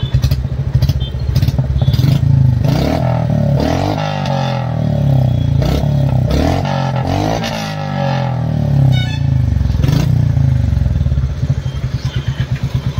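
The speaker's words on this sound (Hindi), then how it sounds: "फाइनली अभी वापस हम स्टैंडर्ड BS6 का ओरिजिनल साइलेंसर सुन रहे हैं" Royal Enfield Bullet 350 running on its standard BS6 original silencer: a loud, close, steady thumping idle with a few throttle blips that swell and fall back. The exhaust pulses are rapid and continuous throughout.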